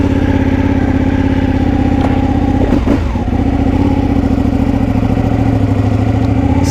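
A Ducati Panigale four-cylinder motorcycle engine of about 1,800 cc runs at a steady, loud, close idle, with an even throbbing rumble and a brief rough flutter midway, and no one talking.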